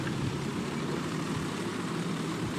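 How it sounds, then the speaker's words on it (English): Propeller aircraft engine in War Thunder, a steady broadband drone with a low rumble that holds at constant loudness throughout, fairly close, with no talk over it. "That's a plane!"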